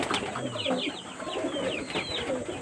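Pet pigeons cooing in a loft, repeated soft rolling coos overlapping from several birds at close range, with faint background noise and no talking.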